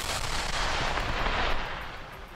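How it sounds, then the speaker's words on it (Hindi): Controlled detonation of unexploded Russian bombs in a large pit, a dense, continuous roaring blast rumble that stays loud before slowly tapering, heard alone. "जैसे ही उन सभी बमों को धमाके में उड़ाया गया, वहां धूल का गुबार छा गया।"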